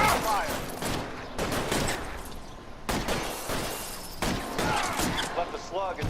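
Dense, continuous gunfire from the L.A. Noire video game, with repeated loud bursts and volleys layered over someone talking throughout.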